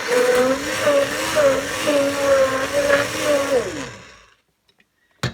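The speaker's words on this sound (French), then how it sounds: "je vais mixer le tout avec mon mixeur dédié à tous mes produits d'entretien" A hand blender mixes homemade liquid laundry detergent, a loud close whirring motor with slight pitch wobbles that winds down and stops, followed by quiet small knocks and a final brief clunk.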